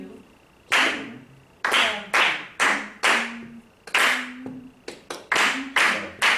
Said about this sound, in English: Okay, we're clapping.